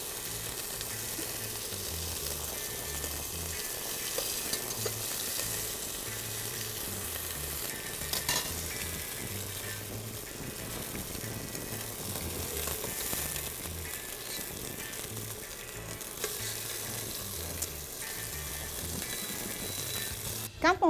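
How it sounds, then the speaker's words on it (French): Chicken sears in hot oil in a saucepan. A steady, close sizzle and crackle runs throughout, with occasional stirring and scraping sounds at low volume. "je vais faire chauffer de l'huile pour saisir mon poulet de tous les côtés"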